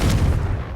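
A Confringo fire-blast spell explodes in Hogwarts Legacy with a loud, close, low boom that fades quickly over a brief moment.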